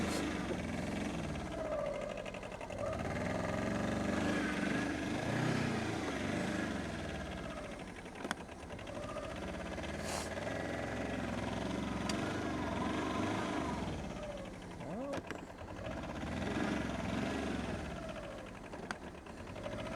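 Arctic Cat Diesel 700 ATV engine on a test ride, a steady chugging diesel rumble that rises and falls with throttle, and someone speaking over it now and then.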